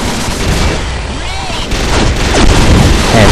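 Rapid sustained gunfire from an M134 minigun in a video game, a dense, continuous loud roar that builds slightly toward the end, with someone talking over it.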